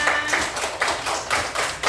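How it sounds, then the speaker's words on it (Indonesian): Third-grade schoolchildren in a classroom clap their hands together in a quick, loosely synchronized rhythm of repeated bursts, fairly close and moderately loud. "tepuk tangannya mana?"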